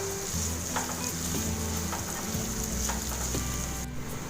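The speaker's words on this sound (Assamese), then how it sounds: "তাৰ পিছত দিম মই 3টা কটা জলকীয়া আৰু মিডিয়াম সাইজত কটা এটা ক্যাপসিকাম এটা গুটেখিনি আমি ভালকে ভাজি লম" Three cut chilies and a medium-sized chopped capsicum frying in a pan for chili garlic prawns, a loud constant sizzle with brief stirring clicks throughout, no talk.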